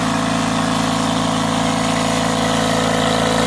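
An electric pump inflates a flat motorcycle tire, a steady loud droning motor hum with a constant buzzing vibration running throughout, close up and without pause.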